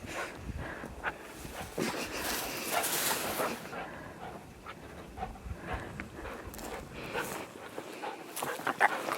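Dog playing with its favorite toy indoors, with scuffling movement, panting and a few soft whimpers and yips scattered through, fairly faint and close.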